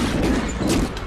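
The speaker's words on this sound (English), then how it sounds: "I'm not a huge fan of the machine gun" A short, loud, close burst of machine gun fire in Bioshock 2, dense rapid shots blurring into one continuous rattle with booming low thumps.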